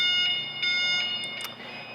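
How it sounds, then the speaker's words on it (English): Backup alarm on a new Heli diesel pneumatic forklift, a high, steady electronic tone with a few short clicks and knocks mixed in, close and fairly loud. "and you'll hear a backup alarm."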